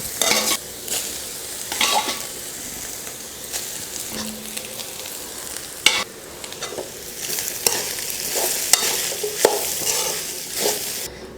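Cooked rice is stirred into sautéed vegetables in a pan for a kids' lunch box, with steady sizzling frying under repeated scraping and clinking strokes of a spoon against the pan, close and moderately loud.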